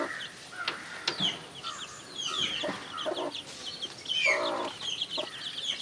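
Hens and eleven young chicks, including Aseel chicks, on a backyard chicken farm: soft clucks and high peeping chirps scattered throughout, close but quiet, no voices present.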